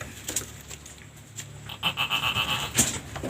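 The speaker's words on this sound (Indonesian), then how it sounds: "ini teman-teman bisa lihat kambingnya lagi kebingungan mencari air susu" A young goat kid, under a month old, bleats repeatedly while searching for milk, a run of short, close, nasal cries that grows louder and more insistent toward the end, with no one speaking.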